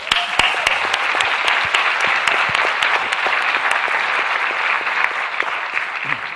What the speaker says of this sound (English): So let's give our moderators a round of applause.